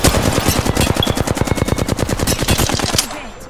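Sustained automatic gunfire during an Apex Legends firefight, a loud, fast, steady stream of shots for about three seconds before cutting off abruptly.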